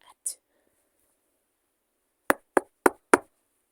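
Four sharp knocks land in quick succession on a front door, loud and close, after a mostly quiet stretch with a faint whisper-like rustle near the start.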